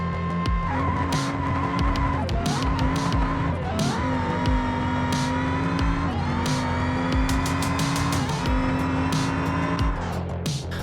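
Front-wheel-drive Lansdale drag car launching in the BeamNG game, engine loud and steady with clutch slipped through first gear, tires squealing, revs dipping and climbing through several shifts.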